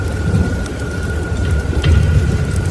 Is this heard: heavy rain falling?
yes